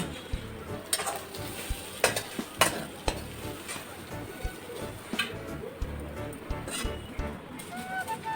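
A spoon scrapes spiced potato filling out of a pan onto a plate with sharp metallic scrapes and clicks over a low sizzle, close up, with a voice speaking now and then.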